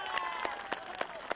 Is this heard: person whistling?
no